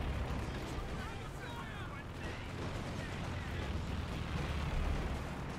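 Land Mattress rocket barrage explosions in Company of Heroes 2 pound a battlefield, a dense, continuous rumbling roar of blasts with a voice talking over it.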